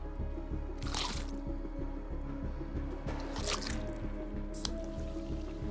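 Drinking water in the survival video game Sons of the Forest makes soft, wet gulping splashes in three short bursts over a steady low rhythmic background hum, with no speech.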